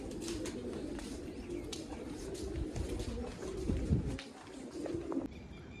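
Pigeons coo softly and repeatedly over a steady low background hum, with no voices.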